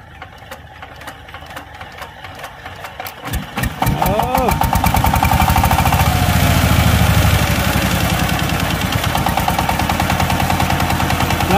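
A Sigma Power Plus engine under repair is cranked with a rapid series of sharp pops, then catches and runs at a loud, steady chugging idle close by, with people talking over it.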